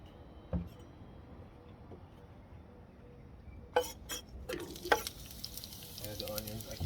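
Avocado oil sizzling on a Blackstone griddle: a steady low frying hiss with a few sharp clinks and scrapes of utensils against the metal surface partway through, close and moderately quiet, with no talking.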